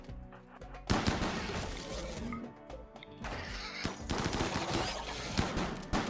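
Rapid turret gunfire in the colony game RimWorld during a mega spider attack, with dense bursts of shots and impacts that stop briefly and then resume loudly, and no voices.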